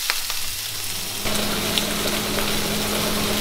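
A kitchen exhaust fan switches on over a steak frying on high heat, adding a steady hum and rushing air to the ongoing sizzle and crackle, all close by and without talk.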